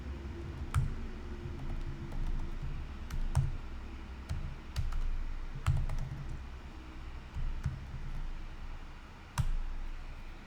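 Sparse, irregular clicks of keys on a computer keyboard, close and fairly quiet, tapping in short bursts with pauses between.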